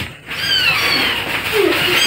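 A kitten gives a continuous thin, high mewing cry, close and fairly loud, rising and wavering over about two seconds.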